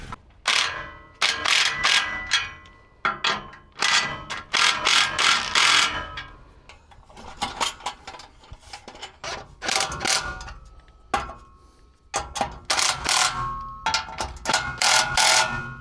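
Ratchet clicking in fast bursts while tightening exhaust clamps on a square-body truck, loud and close, separated by short pauses and occasional metallic clanks.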